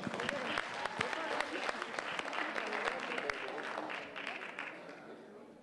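Sustained applause from a festival-stage audience, dense clapping throughout that fades slightly toward the end, with a few sharper claps standing out.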